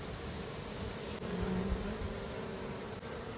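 A dense, steady buzz of many bees around a hive frame from a nucleus colony fills the air up close, with a few brief louder hums from individual bees flying nearby.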